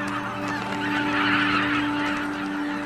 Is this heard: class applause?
no